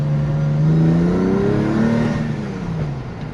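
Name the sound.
Porsche 996/911 engine revving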